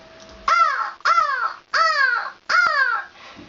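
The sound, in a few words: girl imitating a crow's caw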